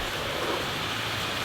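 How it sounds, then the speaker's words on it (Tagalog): Heavy rain falling as a steady, dense hiss with no breaks, fairly faint and with no other sounds over it. "Bayan nga po at malakas po ang ulan."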